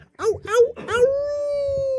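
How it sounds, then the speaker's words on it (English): Dogs howl in a drawn-out, rising wail that settles into one long sustained note, loud and close, with no talking over it. "Those dogs are howling."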